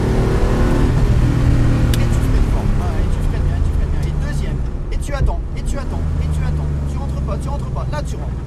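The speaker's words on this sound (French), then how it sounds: "tu remets tes roues droites, t'accélères. Troisième." Car accelerating in third gear during a driving lesson, a steady engine drone rising under an instructor's talking throughout.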